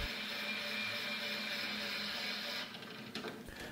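A Bambu Lab 3D printer printing a mount for a BIQU Panda upgrade, a steady mechanical whir with tonal motor hum, close and constant, shifting to irregular clicks and movement sounds near the end.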